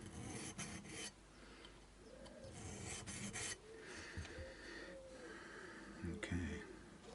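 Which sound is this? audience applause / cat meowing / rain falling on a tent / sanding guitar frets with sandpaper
sanding guitar frets with sandpaper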